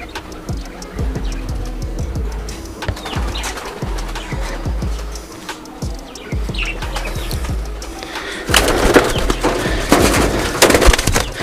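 Pigeons newly bought from a breeder, including a 2.5-year-old lineage bird, chirp and call near wooden lofts with scattered clicks and knocks. Activity grows louder and denser toward the end.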